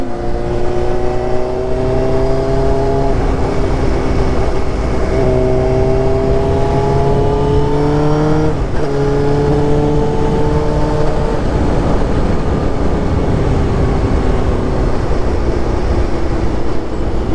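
A 2005 Suzuki GSX-R 750 sport bike rides on a road, its engine whining up through rising revs and dropping between gear changes, loud under constant wind roar.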